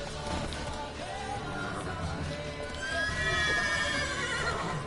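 A horse in The Witcher 3 whinnies in a rising, wavering neigh over the clatter of hooves, fairly faint in the game mix with a little background murmur.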